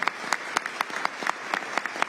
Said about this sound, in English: So yes, that does deserve a round of applause.